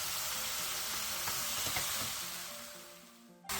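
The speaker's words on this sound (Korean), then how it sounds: "화면처럼 버섯이 숨이 완전히 죽어 촐랑촐랑 거리는 정도까지 볶아주면 돼요." Mushrooms stir-fry in a pan, a close, even sizzle with a few light scraping stirs that gradually fades before a sudden clatter at the end, no voices present.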